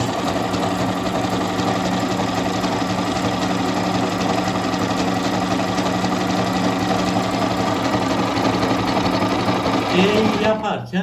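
An Elmas 990P household sewing machine runs a decorative stitch pattern, a steady continuous mechanical hum and rapid needle chatter lasting throughout, close and fairly loud, winding down at the very end.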